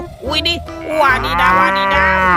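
A cow moos loudly in a long, drawn-out low call with rising harmonics, close and clear, while a voice exclaims over the start.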